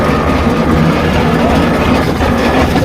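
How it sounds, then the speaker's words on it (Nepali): A tractor loaded with wood rolling down a slope under braking, a loud, dense, continuous rumbling grind with rattling and a faint high squeal woven through. "ब्रेक मार्दाखेरि घरिघरि हाम्रो ट्र्याक्टर सुँगुर जस्तो पनि कराउँछ"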